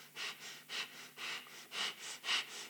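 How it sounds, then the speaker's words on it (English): Heavy, rhythmic breathing close to the microphone, with about six loud, drawn-out breaths in quick succession and no talking. "stop breathing like that."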